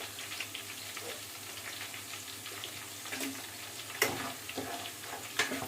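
Wild boar meat fries lightly in a pan for a gravy curry, giving a steady, moderate sizzle with scattered crackles and a few sharper pops and clicks near the end, with no talking.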